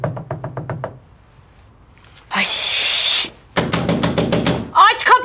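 Knuckles rap a door in a quick run of about six knocks, then a burst of noise and a second rapid series of knocks, with a voice calling out briefly at the end.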